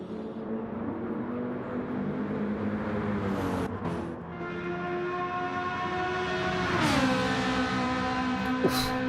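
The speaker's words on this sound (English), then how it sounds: "does sound good though, the Ferrari, doesn't it?" Ferrari GT3 race car engine at Monza in a racing video game, a steady loud harmonic drone that shifts pitch around four seconds, then climbs in a rising rev near seven seconds, with a brief sharp burst at the end.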